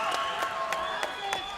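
A crowd at an MMA fight in a domed arena cheers and claps in a dense roar with several repeated swells, while a commentator talks over it.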